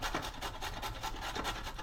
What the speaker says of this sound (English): I'm just going to grate those.